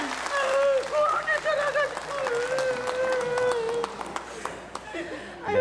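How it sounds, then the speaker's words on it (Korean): Studio audience applause for a reunited separated family on a 1983 Korean live TV broadcast, a steady wash of clapping running the whole time beneath a voice that is singing or wailing. "우리 축하의 박수 모두 좀 보내주실까요"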